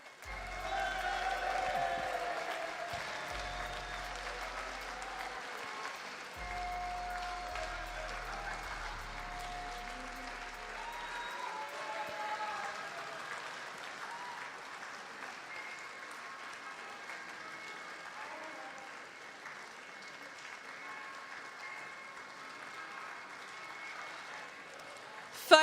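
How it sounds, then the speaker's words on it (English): An esports audience at the Commonwealth Esports Championships in Birmingham 2022 gives sustained applause, a dense wash of clapping that fills the hall. Early on, low music thumps underneath, then the applause slowly thins toward the end. "I've seen folks standing up to give a round of applause as well."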